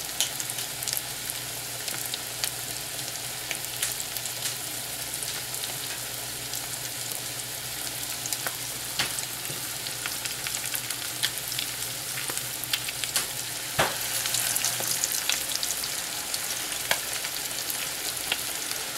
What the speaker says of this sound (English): You don't want to play with these too much when they're cooking, because the patty is kind of delicate and it will fall apart on you.